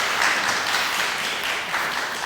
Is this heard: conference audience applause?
yes